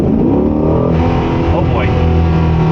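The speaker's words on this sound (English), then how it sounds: "That'll give me a little more engine braking coming down the hill." A 2024 Corvette Stingray engine, heard from inside the car, holds a loud, steady drone while engine braking downhill in track mode, with a slight pitch shift partway through.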